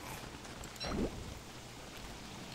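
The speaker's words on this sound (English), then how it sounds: "I don't want to be out in the rain like this" Steady soft rain in the survival game Don't Starve: Reign of Giants, a faint continuous hiss with one brief louder splash partway through, no voices.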